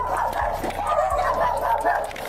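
Several elderly dogs at a rural property bark and yip during a tense police confrontation, a run of sharp barks at moderate distance over a steady background hum.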